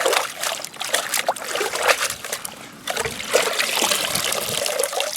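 Water trickling and splashing as muddy yellowroot roots are washed by hand, a continuous close dribbling and sloshing with uneven bursts of splashes.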